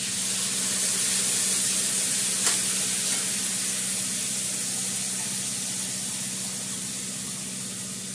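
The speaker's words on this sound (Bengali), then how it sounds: "এবার জল দিয়ে দেবো।" Water poured into a pan of frying curry with green chillies sends up a steady, loud hiss and sizzle that holds evenly throughout, slowly easing toward the end, with no talking.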